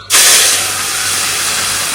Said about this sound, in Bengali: এই শাকটা একটু ফোড়ন দিয়ে নামাই নিয়ে নিই। রাঁধুনি আর শুকনো লঙ্কা।